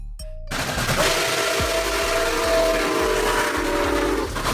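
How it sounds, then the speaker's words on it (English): A train locomotive passes close and loud after a quiet start. A steady whistle-like tone runs over its rumble, and wheels clack in a regular beat over rail joints. "Locomotive, the leader of the train gang. It pulls all the other cars."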